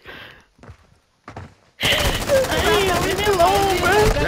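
Sustained burst of video game gunfire as a full magazine is emptied into a tree during a firefight, loud and dense for the last few seconds after brief quiet talk and pauses.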